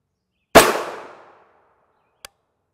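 A single loud gunshot fired at a soft armor test plate rated NIJ Level IIIA, a sharp crack with a quickly fading ring, followed by a faint short click about two seconds later.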